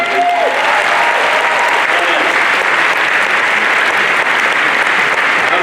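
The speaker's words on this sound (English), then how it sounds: "A round of applause, please, to Magdalene for an amazing experience." An audience at a technology congress event in Yerevan applauds: steady, dense clapping from a large crowd, loud and continuous for the whole stretch.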